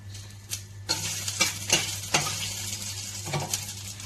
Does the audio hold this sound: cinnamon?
yes